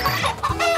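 Chickens being chased cluck close by in a brief, busy burst of overlapping clucks, loud and clear.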